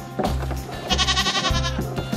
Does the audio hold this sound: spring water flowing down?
no